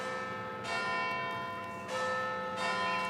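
Church bells ring in slow, repeated strikes, each peal swelling and then lingering with a long resonant hum before the next.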